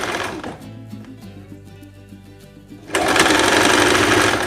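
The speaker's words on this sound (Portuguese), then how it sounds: "vai passar uma costura reta e depois você faz o acabamento. Ou na overlock ou no zigue-zague" A sewing machine runs a straight seam on dress fabric, a steady mechanical whir with rhythmic stitching pulses that swells loud and dense for the final stretch, with no talk.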